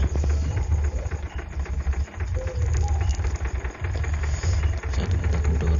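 A car engine idles with a rough, irregular knock, a loud low rumble that pulses unevenly close by while faint music from a nearby gathering plays in the background.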